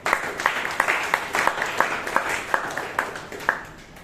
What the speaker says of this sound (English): So a round of applause for the speaker and for the evaluator once again.